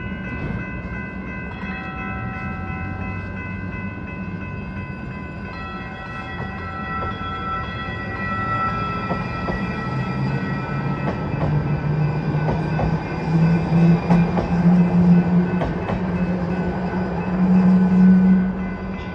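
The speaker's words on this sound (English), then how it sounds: "We're gonna film this train right now." Lynx light rail train at the 7th Street crossing in Charlotte, rolling past with a steady rising rumble, sustained horn or bell tones early on, and rail clatter growing louder near the end.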